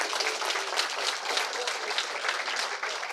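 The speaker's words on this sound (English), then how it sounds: "Big clap." An audience at a university three minute thesis competition claps in a steady, dense round of applause that continues evenly throughout.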